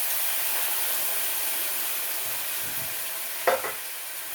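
Jackfruit masala sizzling in a pan, a steady soft hiss with a brief scraping stir near the end, close and without voices.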